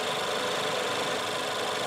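A Lincoln MKZ's 2.0-liter turbo EcoBoost four-cylinder runs steadily with the hood open, heard from close by as an even, hissing mechanical whir with faint ticking and no talk.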